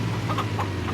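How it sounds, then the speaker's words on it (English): Chickens cluck in Farming Simulator 25, with a few short, soft clucks rising over a steady low tractor engine hum. "have to run over a few chickens to get to the back."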